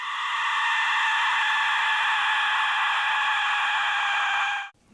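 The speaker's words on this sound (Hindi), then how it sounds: "जब इसमें फूंक मारी जाती तो एक बड़ी ही डरावनी चीख सुनाई पड़ती।" An ancient Aztec blown conch-like war instrument lets out one sustained, loud, piercing shriek, steady for several seconds before cutting off abruptly.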